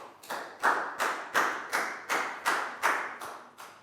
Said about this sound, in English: High five and a big round of applause for Bang Pon, please, guys.